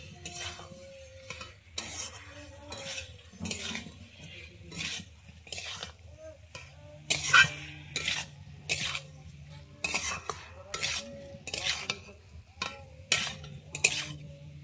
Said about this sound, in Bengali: আমি যে ওল আর আলুটা ভেজে নিয়েছিলাম এবারে ওইটা দিয়ে দিচ্ছি, দিয়ে আমি ভালোভাবে কষিয়ে নিচ্ছি।